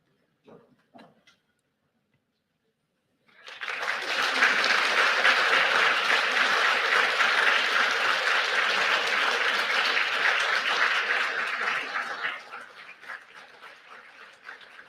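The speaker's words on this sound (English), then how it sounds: "I ask the graduates to now rise, turn, and applaud their supporters in the audience" Graduates at a university convocation ceremony at Saint Mary's University in Halifax applaud their supporters in the audience. After a few faint knocks and a pause, dense clapping from a large hall bursts in, holds for about nine seconds, then thins out.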